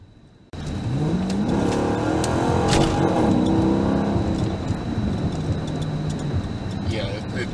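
A Chrysler 300C running VP Racing octane booster revs at part throttle, its loud engine note climbing and holding steady close by for several seconds, with a rushing, rain-like roar underneath.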